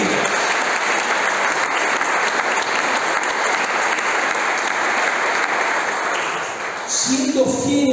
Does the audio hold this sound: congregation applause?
yes